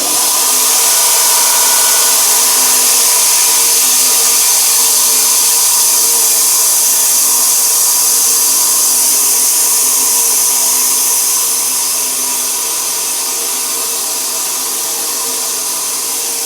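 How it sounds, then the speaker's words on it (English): Motor of a custom Cremona wide-cut sawmill blade starting up and running steadily, a loud continuous whirring drone that holds for about eleven seconds, then eases slightly as it settles, with no talk. "We have our motor start, and that starts the motor of the blade, so I'll do that quick."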